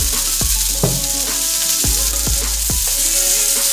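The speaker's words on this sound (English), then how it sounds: "Okay, get that going, a little bit of stir fry oil." Stir fry oil sizzles steadily in a hot pan for Korean short ribs, with several sharp knocks and clatters of utensils over the hiss. No one speaks.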